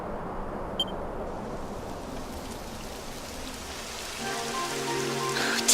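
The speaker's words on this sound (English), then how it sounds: "Typical. It would have to go and start raining, wouldn't it?" Rain begins falling in Dragon Quest XI, a steady hiss of drops over a constant wash, with a faint electronic blip early on and a soft tonal game sound rising near the end.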